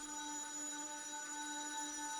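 A telephone rings with a steady electronic tone that holds unbroken through the whole moment, fairly clear and close, with no talking over it.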